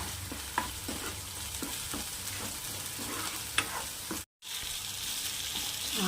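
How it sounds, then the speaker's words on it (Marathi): Kala chana masala being stirred and fried in oil, a constant soft sizzle broken by rhythmic spoon scrapes and taps against the pan, close and fairly quiet, with a brief dropout near the end. "मसाला छान पकू द्यायचा आहे आणि तेल सुटेपर्यंत छान याला असं परतत राहायचं आहे"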